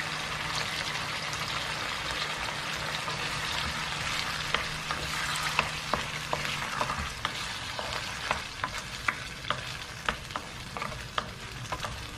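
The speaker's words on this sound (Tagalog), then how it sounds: "Ayan, kumukulo na" Constant bubbling and sizzling from a pot on the stove, with sharp pops and crackles growing more frequent toward the end.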